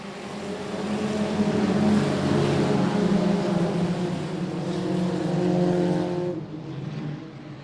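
Race cars roar together off the green flag start at I-37 Speedway, a loud sustained engine drone with layered revving harmonics that builds and then fades as the pack pulls away.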